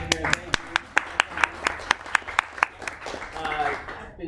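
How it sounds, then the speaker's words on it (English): A small group claps at a public lecture about right whales, a sparse string of distinct hand claps in a fairly regular rhythm, with voices murmuring near the end as the clapping thins out. "So I'm going to give you all a round of applause for being here."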